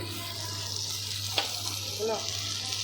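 Maggi masala tipped into a sizzling pan and stirred, a soft steady sizzle with a sharp tap partway through and a brief scraping stir near the end.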